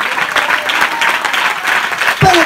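A church congregation claps steadily and loudly throughout, a dense wash of many hands applauding at close range with faint voices mixed in.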